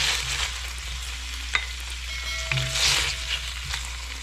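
Beef browning in hot oil in a pan, a steady close sizzle with a few sharp clinks of a utensil stirring, no talking.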